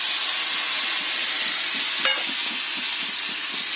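Garlic dropped into hot oil sizzles as a loud, continuous, close hiss that holds steady from start to finish, with no talk.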